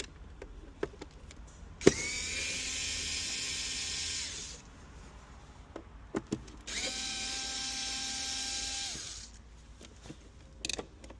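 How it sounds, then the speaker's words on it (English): A power screwdriver or drill unscrews two Torx 20 screws inside the interior of a Mercedes S-Class W222, giving two sustained whirring bursts of about two seconds each, separated by light clicks and handling noises. "Next we have two Torx 20 screws here."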